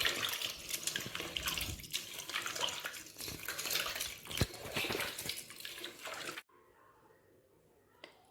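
Soaked tamarind is squeezed and dissolved by hand in water for fish curry, a close, continuous wet sloshing and squishing that stops abruptly near the end, leaving near quiet.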